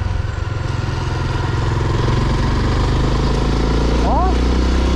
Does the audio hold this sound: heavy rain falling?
no